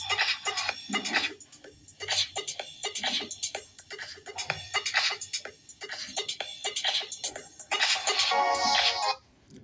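Ringtone melody from the dual speakers of a Tecno Spark 7P phone, playing loud and alone in repeated bright bursts with a denser, sustained passage near the end.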